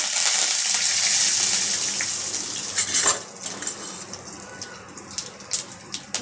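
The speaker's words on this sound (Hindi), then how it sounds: "हींग डाल दिया है और मैंने राई लिया है, एक लाल मिर्चा डाल दिया है। और फ्रेंड्स, कड़ी पत्ता डाल दिया है," Mustard seeds, red chilli, curry leaves and asafoetida fry in hot oil with a loud, close hiss that gradually fades, followed by scattered crackles and pops; there is no talking.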